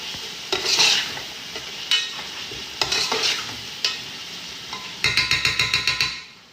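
Chicken with spices frying in a pan, a steady loud sizzle broken by repeated scraping stirs, ending in a quick run of rhythmic spatula knocks against the pan, close and without talk.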